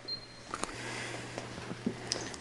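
Soft mechanical shutter clicks from a Canon 5D or Sigma SD14 camera in a studio: a few faint, sharp snaps spaced irregularly over quiet room noise.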